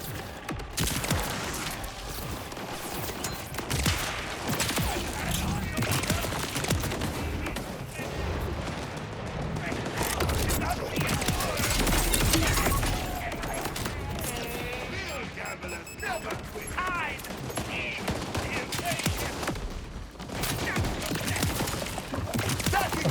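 Dense, rapid gunfire rattles almost continuously through a Borderlands 4 fight, with bursts, booms and mechanical clatter layered together at close range while voices speak over the action.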